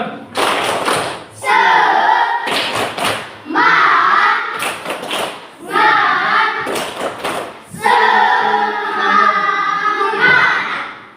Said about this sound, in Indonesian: Sekali lagi, tepuk semangat dulu, ya